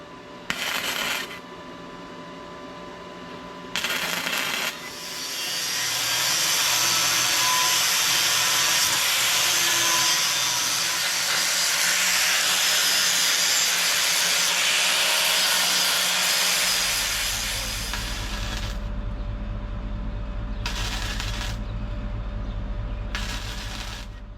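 Welding end caps onto metal ears while building a Jeep Thing setup on a Suburban: a steady, loud sizzling hiss runs for about twelve seconds after a couple of short bursts, then gives way to a low humming drone.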